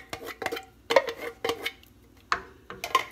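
Spoon clinking and scraping against a pot while stirring tomato pasta sauce made from canned Italian tomatoes and sauce, about six distinct metallic taps in an uneven rhythm, close and clear with quiet pauses between.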